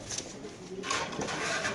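Soft coos from caged racing pigeons nearby, low and murmuring, with a brief bird call partway through over quiet background.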